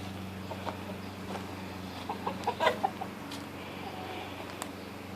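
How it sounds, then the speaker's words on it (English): Hens cluck softly in a short cluster of calls over a steady low hum, with faint scattered noises around them. "Look at all these chickens."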